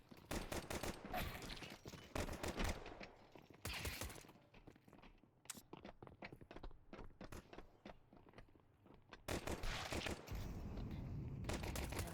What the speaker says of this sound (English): Mercy shots there from Piku.